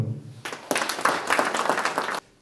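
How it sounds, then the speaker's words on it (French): Applause from the crowd at a firefighters' Sainte-Barbe ceremony in Serémange-Erzange, a short burst of clapping that starts abruptly, swells briefly and stops cleanly, heard in a reverberant hall. "vous pouvez sincèrement les applaudir"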